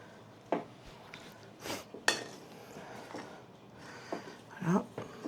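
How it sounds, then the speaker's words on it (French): A Danish dough whisk works sticky sourdough bread dough made with T65 flour, giving soft scrapes and a few sharper clinks against the bowl at irregular intervals while someone talks in French. "ce fouet danois là que je suis en train d'utiliser est beaucoup plus performant que l'autre"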